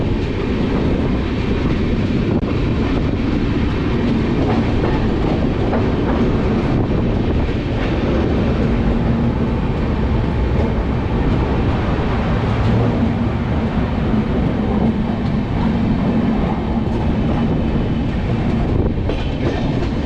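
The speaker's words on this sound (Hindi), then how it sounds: "हमारी ट्रेन ने एक्सलरेट करना स्टार्ट कर दिया है।" A Delhi–Amritsar Shatabdi Express train accelerates along the rails with a loud, continuous rumble and clattering wheels, heard from close by without pause.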